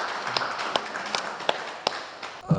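A church congregation at a Korean foreign-residents' church dawn service applauds the pastor, with a steady patter of clapping from a modest crowd and a few sharper louder claps standing out.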